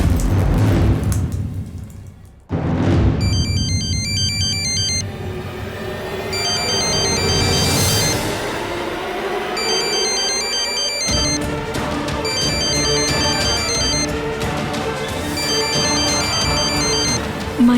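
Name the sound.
phone ringtone ringing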